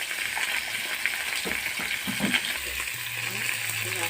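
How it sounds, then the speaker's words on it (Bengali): Fish rubbed with turmeric and salt fries in hot oil with a steady close sizzle, a few soft stirring knocks and a low background hum, no speech. "আবার মাছ ভাজা করছি।"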